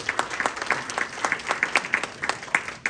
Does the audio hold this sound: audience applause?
yes